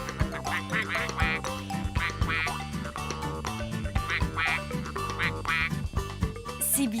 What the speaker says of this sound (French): Les canards sont partis. Pourtant, je les entends toujours.